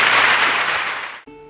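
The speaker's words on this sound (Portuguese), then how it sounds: "aplauda o Senhor." Church audience applauding a priest's sermon, a dense, loud wash of clapping that holds steady, then cuts off abruptly near the end into a quiet tonal tail.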